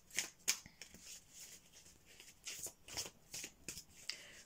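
Oracle cards being shuffled by hand, a quiet series of soft riffling and flicking bursts in an irregular rhythm, close and faint with no voices.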